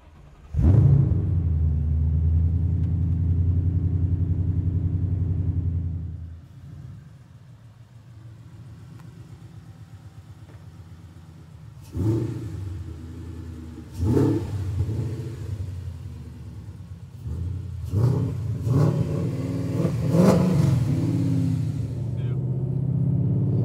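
A 1997 Ford Mustang SVT Cobra with a swapped Coyote V8 drives on a street, its low engine rumble steady at first, then rising in repeated revving surges as the car accelerates.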